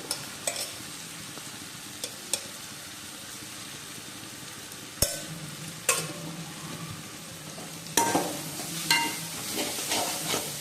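Crab curry masala with turmeric and chilli powder being sautéed in a pan, soft sizzling punctuated by a few sharp spatula taps, then busier stirring and louder frying in the final seconds.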